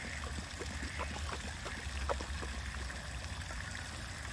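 Shallow stream water with a duck-fouled, murky quality trickles steadily and close by while a Basset hound drinks from it, faint slurps and splashes dotting the even flow.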